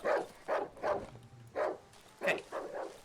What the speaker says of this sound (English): Just a regular dog.